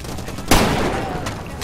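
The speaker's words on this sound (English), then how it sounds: "Who's shooting?" A single sharp, loud gunshot blast in the Far Cry 2 video game, followed by a short rumbling tail and a fainter second crack.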